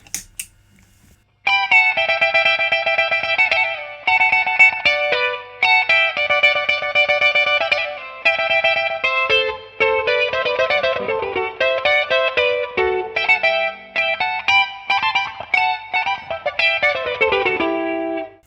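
An electric guitar through an HX Stomp in an amp's effects loop, with a doubled, chorus-like shimmer, plays a steady run of bright repeated notes, close and alone, with a brief pause midway.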